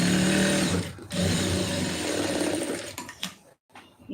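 A sewing machine stitches a quarter-inch fold in fabric, a fast close whirring run with brief pauses and restarts near the end.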